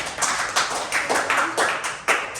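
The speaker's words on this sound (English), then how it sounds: "Let's give her a round of applause." Scattered hand claps from a small group of people after a speaker at an HRDC accreditation session, a brief, uneven burst of several separate claps rather than a full ovation, close and moderately loud.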